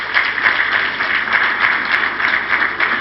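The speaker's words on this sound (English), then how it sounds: "Please give him a round of applause." Audience applause at a leadership awards ceremony, a dense, steady round of clapping from a crowd lasting several seconds, loud and even without speech.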